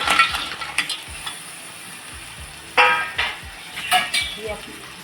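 Crabs tipped into a pan of frying masala for a spicy crab curry and stirred, loud clattering spoon scrapes and knocks against the pan over a steady close sizzle, no talking.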